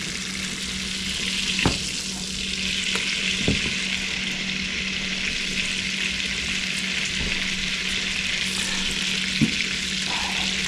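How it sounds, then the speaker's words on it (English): Cajun fried shrimp fry in a pan of butter that nearly covers them, giving a steady, close sizzle and crackle with a few sharp pops and a constant low hum beneath. "get the butter to almost, fully submerge many of these shrimp as they're frying"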